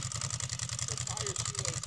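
A 2006 Ducati Monster S2R idles nearby, its dry clutch rattling in a fast, even pulse under someone talking.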